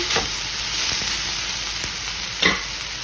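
Fajita vegetables sizzle steadily in a hot pan while spices are stirred in, a continuous close hiss broken by a few soft stirring knocks and one louder scrape near the end, with no voices.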